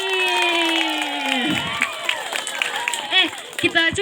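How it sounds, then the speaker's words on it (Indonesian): Students at a Christian junior high school presentation on female reproductive organs raise a long, ringing shout of cheering, then break into scattered bursts of shouts and light clapping amid children's voices. "Tepuk tangan lagi."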